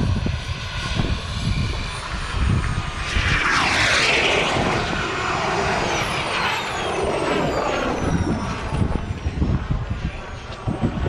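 A Hangar 9 Aermacchi MB-339 RC jet powered by a KingTech K-85G4 turbine flies past, its loud whooshing turbine roar rising to a sweep overhead and then receding against outdoor noise.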